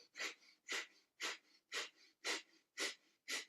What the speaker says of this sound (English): we're going to do breath of fire, which is like a dog panting on a hot day